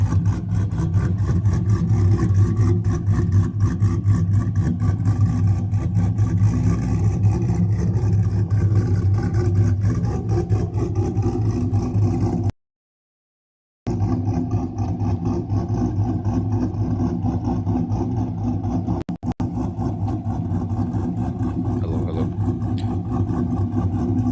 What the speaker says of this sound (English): if you can spend the 15 grand or 10-15 grand to put a cam on it, it sounds pretty amazing